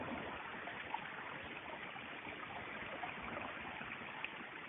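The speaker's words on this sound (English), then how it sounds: "This is such a pretty little waterfall." A small waterfall on a mountain trail along the Appalachian Trail near Franklin, North Carolina, a steady soft rushing of falling water, faint and continuous with no voices over it.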